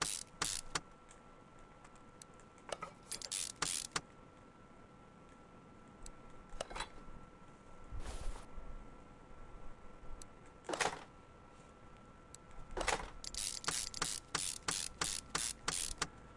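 Gearbox being fitted in the video game Car Mechanic Simulator, with bursts of rapid ratchet clicks and mechanical clatter separated by quieter stretches, crisp and close with no speech.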